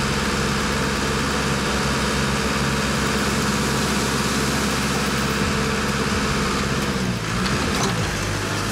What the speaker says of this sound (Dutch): Ik zit nou dus mijn ommetje in een trekker